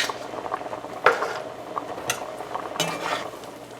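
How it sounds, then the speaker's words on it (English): Onions, pepper, scallions, garlic and salt stirred in a pot, with a few scraping clinks of utensil against metal and a soft sizzle underneath, close and fairly quiet. "give that a stir"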